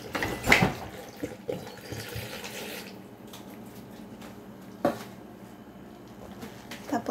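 Water poured into a cooking pot for homemade cherry jam, a steady splashing pour with a few louder clinks and splashes, fairly close and without speech over it.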